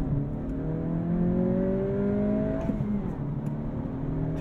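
A 2023 Acura Integra with a manual gearbox accelerating hard toward 60 mph, engine note climbing steadily in pitch and dropping briefly at a gear shift before rising again, heard from inside the cabin with no talking.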